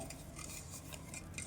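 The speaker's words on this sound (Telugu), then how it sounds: "ఇప్పుడుగా ఒకసారి అంతా కలిసేటట్టు కలుపుకోవాలి." A spoon quietly scrapes and rubs through dry mustard powder, turmeric and salt for a Telangana lemon pickle, making faint gritty stirring sounds with a few light clinks over steady background hiss.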